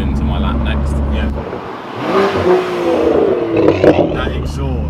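A BMW M2 F87 fitted with an iPE exhaust system revs and pulls away loudly, a rising exhaust roar building after a low idle rumble, with a person talking over it.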